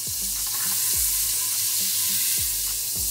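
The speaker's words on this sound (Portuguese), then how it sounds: "E já vou acrescentar a cebola" Sliced onion sizzles loudly and steadily in a pan with bacon for mocotó with tripe, with dull utensil knocks against the pan recurring every second or so.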